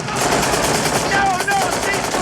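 Rapid machine-gun fire from the 1987 war film Full Metal Jacket, a dense, loud burst of overlapping shots with voices shouting underneath.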